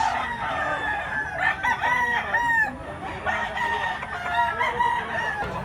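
Roosters crow repeatedly at a gamecock market in Mantalungon, Cebu, several birds overlapping at near and middle distance amid a steady background murmur of the crowd.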